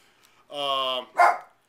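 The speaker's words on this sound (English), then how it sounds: "No, it's just the dogs." Dogs nearby give a drawn-out, tonal whining howl lasting about half a second, then one short, sharp bark, both fairly loud against a quiet background.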